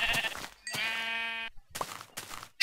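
Sheep in Minecraft bleat in short, close, separate calls, with a few quiet gaps between them and a sharp sound at the very end.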